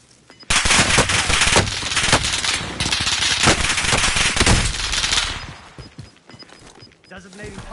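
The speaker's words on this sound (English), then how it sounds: "Precision airstrike missed." Loud, dense barrage of explosions and rapid gunfire-like blasts in a video game precision airstrike, sustained for several seconds before fading into quieter rumble and scattered pops.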